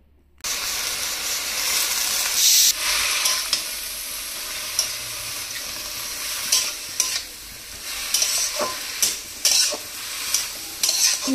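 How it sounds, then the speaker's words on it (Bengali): Spinach with salt, turmeric and spices stirred as it fries in a pan: a steady hissing sizzle broken by repeated scraping strokes of the spoon, close and fairly loud, with no talking. "সব কিছুকে ভালোভাবে মিশিয়ে নিয়ে কিছুক্ষণের জন্য নাড়াচাড়া করতে হবে"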